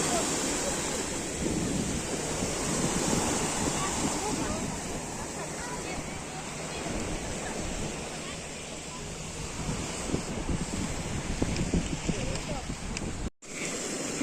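Steady surf of the Tyrrhenian Sea at Torvaianica washes onto the shore in a continuous roar, with wind buffeting the microphone and a brief dropout near the end.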